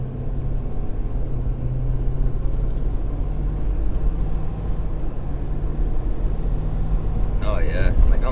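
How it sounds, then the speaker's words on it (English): A 2020 Ford Super Duty Powerstroke diesel truck hauling logs on the highway gives a steady, loud low engine drone and rumble as it works through the gears, with a voice speaking briefly near the end. "like I'm barely on the throttle here. She's just shifting through the gears."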